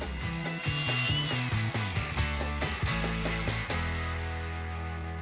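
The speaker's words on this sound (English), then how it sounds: "grind the head of the bolt on the outside of the diameter of the bolt pattern to keep it from hitting the torque converter" A power tool grinding down bolt heads on an engine bolt pattern for a Hemi-swapped Gremlin: rapid rattling, buzzing bursts with a rising whine, close and loud, then spinning down to a fading hum.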